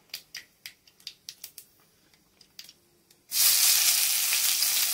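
Several light taps and clicks come first, then chopped onion hits hot oil with a sudden loud sizzle that holds as a dense, steady hiss.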